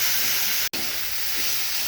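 Sweet pumpkin greens stir-frying with turmeric in a hot pan, producing a continuous loud hiss and sizzle with one brief dropout near the middle, and no voices.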